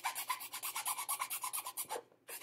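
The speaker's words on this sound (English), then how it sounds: "I'm going to sand this key down a little bit," A file rasps back and forth in quick, regular strokes on a plastic model kit part, close and fairly loud, with a short pause near the end before it resumes.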